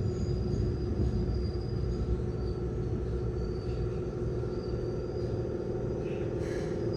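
Keikyu 600 series commuter train with Mitsubishi GTO-VVVF inverter, running as an Airport Express on the Keikyu Main Line, heard from inside the car as a steady loud rumble of wheels and motors with faint high whines, no talk.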